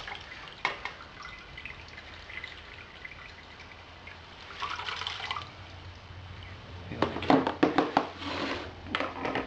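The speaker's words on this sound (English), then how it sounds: "Now instructions say to take this bag out now, drain it." Warm wort drips and trickles from a lifted grain bag during a Coopers Craft extract beer brew, a light patter that swells into louder splashy bursts of draining liquid toward the end.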